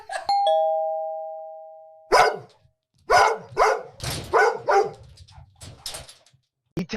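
A two-tone doorbell chime rings and fades, then a dog barks excitedly several times in quick bursts, close by.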